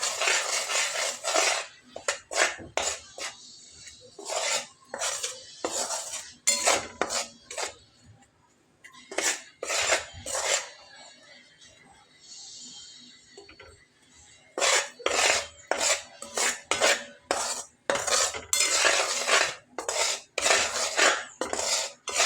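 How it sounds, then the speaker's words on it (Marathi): A spoon scraping and clinking against a pan as a jaggery and peanut chikki mixture with a spoonful of ghee is stirred steadily, in a rapid train of repeated metallic strokes, close and fairly loud, with no talking. "छान एकसारखं परत ढवळायचं आहे"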